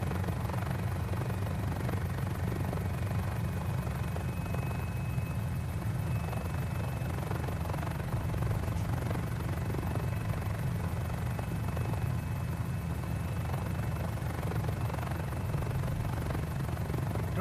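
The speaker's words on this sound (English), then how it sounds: "I'm a terrible helicopter pilot in Microsoft Flight Simulator" A Mini-500 helicopter in Microsoft Flight Simulator drones steadily throughout, with a constant rotor and engine hum at even loudness and no talking.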